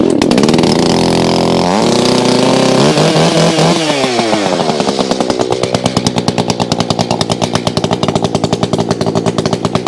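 A gasoline chainsaw, a cheap Chinese model, roars loudly after a cold start, its engine pitch sweeping up and down with revs before settling into a rapid, throbbing idle.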